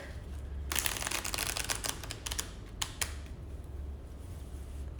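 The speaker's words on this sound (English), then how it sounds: "let me just shuffle the deck" A rapid burst of papery riffling and flicking as a deck of cards is shuffled, close by, lasting a couple of seconds over a low steady hum.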